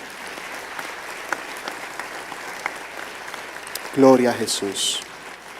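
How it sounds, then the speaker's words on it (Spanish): A church congregation applauds steadily during a worship service, a broad wash of clapping that carries on throughout, with a voice calling out near the end over the applause. "¿Podemos dar un aplauso al Señor Jesús?"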